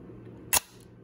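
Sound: film camera shutter being cocked and released

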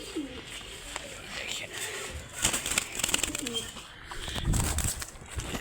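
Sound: pigeons being released into a cage

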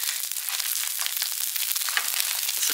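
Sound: fish sizzling in oil and butter

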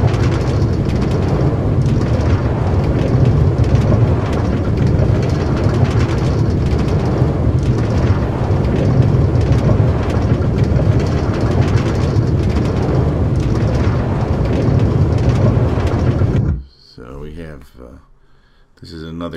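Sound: Minecraft minecart riding on railway tracks, from a video game

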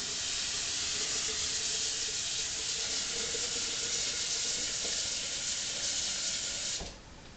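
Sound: pouring water into dissolved cane sugar for bee syrup

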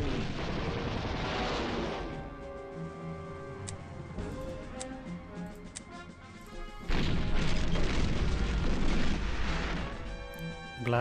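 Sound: bomber attack explosions in Panzer General II video game

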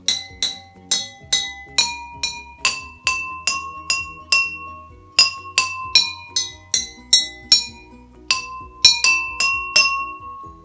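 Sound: glasses with different water levels struck, making different tones

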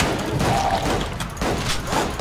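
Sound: shotgun firing in video game Unloved

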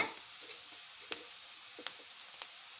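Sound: green chillies frying in a pan

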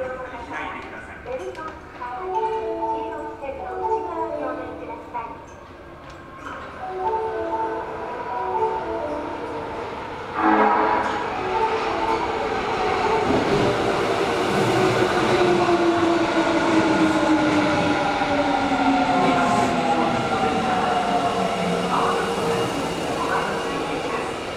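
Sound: Osaka Metro Sennichimae Line subway train arriving at Namba station

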